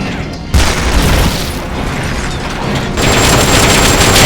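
A loud, close explosion after gunfire at a fuel tank in Metal Gear Solid Peace Walker, a sudden boom followed by a dense, sustained rumble of blast and battle noise.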